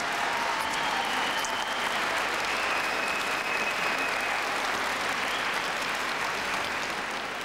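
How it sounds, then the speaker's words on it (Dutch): Studio audience applause at the end of a television quiz show, sustained even clapping from a large crowd for over seven seconds, bright and full without voices. "Een geweldig applaus en de drie zoenen"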